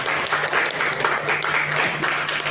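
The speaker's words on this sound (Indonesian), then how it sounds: "Tepuk tangan buat kita semua." A group applauds at the close of a training session for professional managers, steady dense clapping sustained throughout at a fairly loud, even level with no talk over it.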